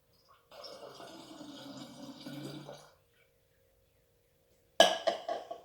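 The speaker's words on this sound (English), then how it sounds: "Second ingredient, 1/4 cup distilled water." Distilled water being poured for a homemade hand sanitizer, a steady liquid trickle lasting a few seconds, followed after a pause by short, louder splashing bursts near the end.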